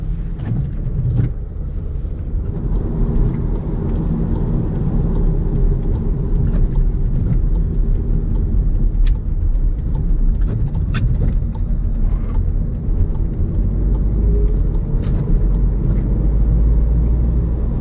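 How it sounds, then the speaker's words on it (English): A SEAT Arona FR pulls away in eco mode on wet roads, heard from inside the cabin as a steady, loud low engine and road rumble with a few faint knocks. "I'm gonna do a POV drive of the Seat Arona FR, and right now we are in eco mode"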